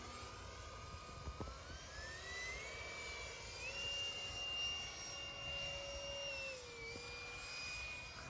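A HobbyKing Vampire V3 RC plane makes a slow low pass with its electric ducted fan whining steadily, the pitch sliding upward and then dipping. Faint and distant, with no talk.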